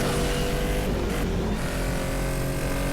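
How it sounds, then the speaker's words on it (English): Race car engine in the mobile racing game Asphalt 8, a steady loud droning roar held at high revs throughout, with no voices. "And listen to that engine."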